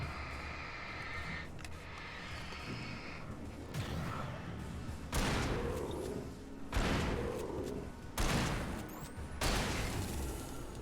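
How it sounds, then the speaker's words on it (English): A hunting rifle fires in the Alan Wake video game. Four loud, booming shots come at spaced intervals over a low, dark ambient background, with no talking. "Hunting rifle."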